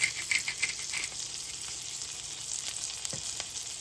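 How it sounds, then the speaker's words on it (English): A burger sizzles steadily in a pan over low heat while being basted, with soft crackling, a few spoon clinks and a brief stir, up close. "my pan is on super low heat. So we're just going to baste that."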